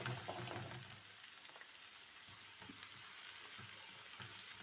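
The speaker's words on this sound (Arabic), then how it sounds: "خلي هاد البصله تاعي تتقلى معنا شويه." Onion fries in a pan with a steady, bright sizzle and crackle, close and fairly loud, with a few faint stirring scrapes and no voices.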